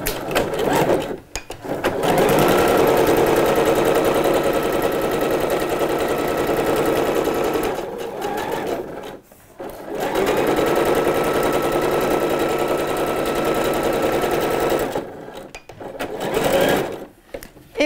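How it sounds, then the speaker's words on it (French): A sewing machine stitches a pinned seam 5 mm from the edge of a pair of shorts in three sustained close bursts of rapid, even needle chatter, separated by brief pauses. "on va venir placer quelques épingles pour pouvoir piquer cette couture, cette fois-ci à 5 mm du bord."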